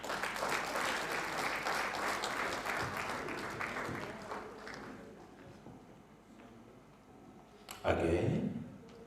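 Audience applause for an art gallery manager at a local economic development innovation showcase, a dense sustained roar of many clapping hands that thins out midway, with a brief louder burst near the end.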